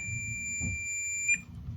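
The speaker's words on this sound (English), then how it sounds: "So I got a continuity mode. Let's just see if I can get it to make it last. You want to get it to beep?" A multimeter in continuity mode gives a steady, clear electronic beep tone lasting about 1.3 seconds, with a brief louder blip at the end before it cuts off over low background noise.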